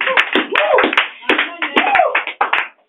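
A church congregation claps in praise of Jesus: rapid, uneven hand claps close by, dense and energetic, with voices mixed in underneath.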